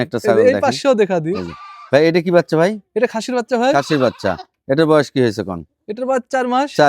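Goats bleat repeatedly in quavering cries, close by at a goat farm, mixed in among talking voices.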